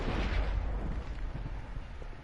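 Rumbling thunder during a rainstorm in Minecraft, a deep, loud, continuous roll that slowly fades across two seconds, with no speech.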